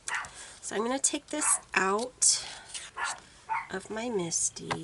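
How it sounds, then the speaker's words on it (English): Yuki, a small Chihuahua, barks and yips in repeated sharp bursts nearby while someone talks quietly over the noise. "Sorry for the dog, that's my Yuki. She's a Chihuahua, so she likes to make noise."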